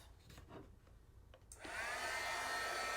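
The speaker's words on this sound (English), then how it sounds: "So I'm going to hold this with this so I can use my heat gun without burning myself." A heat gun for heat embossing a card switches on halfway through and blows with a steady, loud, airy roar, preceded by quiet handling noises.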